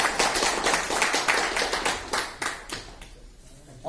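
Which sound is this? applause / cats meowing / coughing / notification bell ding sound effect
applause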